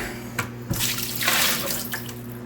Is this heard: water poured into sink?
yes